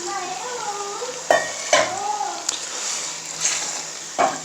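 A spoon stirs chicken feet curry in a metal pot, giving a few sharp scraping clanks against the pot spaced across a couple of seconds over a faint simmering hiss, with someone speaking in between.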